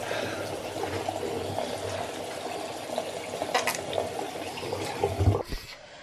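Water runs from a tap into a sink while a child's mouth is washed, a steady close splashing and trickling that swells and ends with a louder splash and a faint voice.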